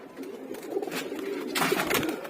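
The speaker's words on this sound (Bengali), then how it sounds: "আর এই ছিল আমার ব্রিডিং ফ্লাইং কবুতরগুলো" Breeding flying pigeons cooing nearby, soft low repeated coos with a brief rustle of wings or movement.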